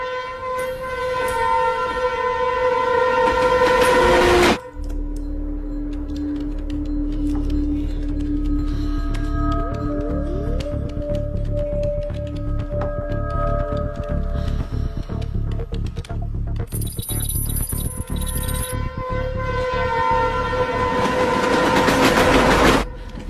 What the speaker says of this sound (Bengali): শেষমেশ ট্রেনটাও ছাড়লো।